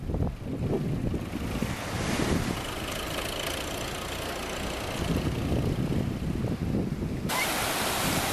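A small fishing boat's engine idles and chugs low as it comes into a Cornish harbour, beneath wind buffeting the microphone and the wash of surf nearby.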